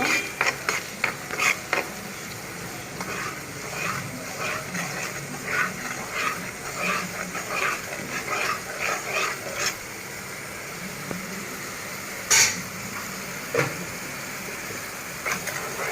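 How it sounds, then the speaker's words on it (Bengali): Spices are fried and stirred in a pan for a katla fish curry with taro, the ladle clicking and scraping against the metal in quick, uneven bursts over a constant sizzle, loud and close. "1 মিনিটের মতো মশলাটা ভালো করে আমি কষিয়ে নিব।"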